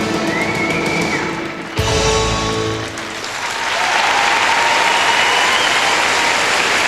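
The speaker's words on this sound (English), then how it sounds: "a great hand from the crowd" A crowd at the 1999 Nations Cup figure skating event breaks into loud, sustained applause that swells into a dense wash of clapping and holds steady to the end.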